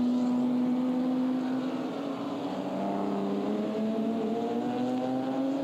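A Euroseries race car, such as a Ginetta, drives through the hairpin at Misano toward the pit lane, its engine a steady, fairly close drone with rising tones as it accelerates.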